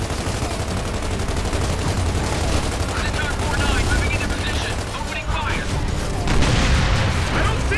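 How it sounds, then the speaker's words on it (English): Heavy sustained gunfire and explosions fill a Gears of War 2 battle, dense and loud throughout, with voices talking over the combat. "Heavy fire from our left flank"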